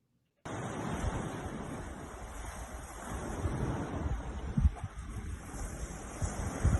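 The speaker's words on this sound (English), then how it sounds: "Qué bonito océano." Ocean surf rolls in steadily at a vacation beach, a continuous broad wash of breaking waves with some wind rumble on the microphone and a few low thumps, fairly loud and without talk.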